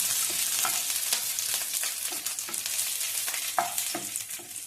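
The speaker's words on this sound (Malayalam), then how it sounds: "എണ്ണയിലൊന്ന് പച്ചമുളക് മുരിക്കുമ്പോൾ" Green chillies frying in hot oil, a dense continuous sizzle with scattered pops and stirring scrapes, steady and close throughout.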